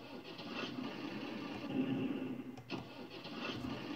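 Fiatagri 180 tractor engine starting in Farming Simulator 19, a steady mid-pitched mechanical rumble that continues evenly throughout with a brief dip partway through, no talking.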